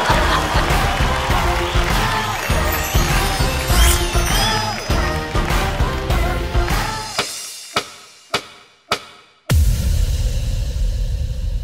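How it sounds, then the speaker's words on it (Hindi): A studio audience at the Super Dancer 4 dance show claps and cheers loudly for dancers, dense applause over music, then a few sharp hits and a brief quiet gap before the sound returns. "तो भैया जोरदार तालियां बजाओ फॉर सौमित बर्मन और सोनाली"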